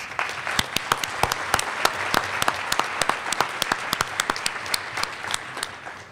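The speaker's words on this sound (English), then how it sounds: "Let's give them a quick round of applause, please." A room audience at a GLR Denver event applauds, dense crowd clapping with several sharp, close individual claps standing out, steady and fairly loud before tapering slightly at the end.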